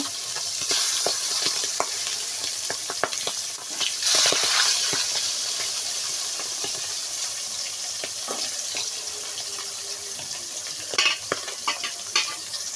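A piece of fish fries in a pan with a bright, continuous sizzle, broken by scattered clicks and scrapes as a spatula turns it over. No one speaks.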